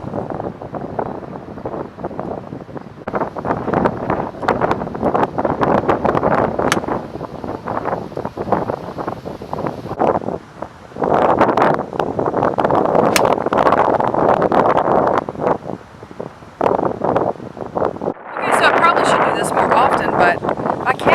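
Wind buffets a microphone on a golf course near a golf cart, a loud, rough rumble that rises and falls in gusts, with a voice talking at times.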